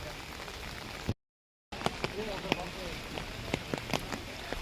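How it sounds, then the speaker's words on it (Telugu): Heavy monsoon rain in Araku falls steadily with a broad hiss and scattered distinct drips and taps; the sound cuts out briefly near the start, then resumes. "వర్షం పడుతుంది ఫ్రెండ్స్ చాలా బీభత్సంగా అయితే పడుతుంది"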